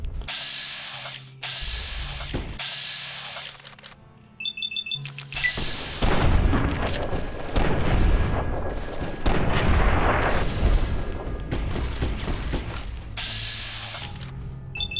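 Enemies firing on the player in Fallout: A Tale of Two Wastelands, a dense run of booming shots and mechanical clatter that swells partway through and stays loud, with quieter chiming game effects before and after.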